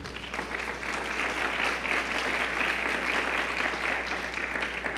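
Congregation applauding during a church sermon, a steady roomful of clapping held at an even level throughout, somewhat distant beneath a low steady hum.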